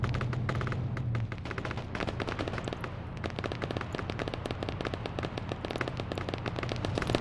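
Rapid gunfire from a military-style video game, dense bursts crackling continuously for the whole span, loud and close with no let-up.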